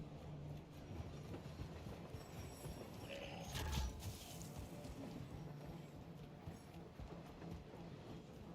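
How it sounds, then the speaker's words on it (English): Train rumbling along the rails in Call of Duty's Al Mazrah map, a steady, continuous mechanical clatter with a brief louder surge near the middle, heard alone without speech. "get on that train"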